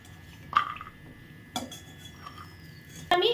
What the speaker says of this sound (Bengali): এবার আমি বড়িগুলো একটি পাত্রে তুলে রাখবো।